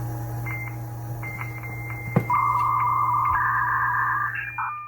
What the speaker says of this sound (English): thanks to a dial-up modem.